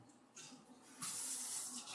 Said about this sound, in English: let me go ahead and put a little bit of water in here